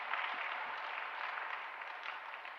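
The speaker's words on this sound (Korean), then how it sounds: "응원과 격려의 박수 한번 어떨까요?" Church congregation applauding during a Sunday afternoon service, a soft, even patter of many hands clapping from across the sanctuary, steady and fairly faint throughout.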